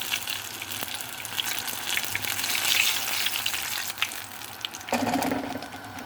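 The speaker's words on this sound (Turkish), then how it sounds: "Şöyle her yerini çevire çevire kızartacağım." Steady sizzling and crackling of eggplants frying in hot oil, continuous and close, with a brief louder hiss toward the end.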